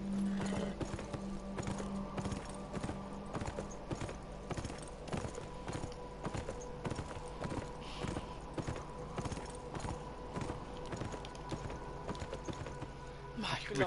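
Horse hooves in the video game Beyond: Two Souls clip-clop in a steady, even rhythm throughout, while people talk in German over them.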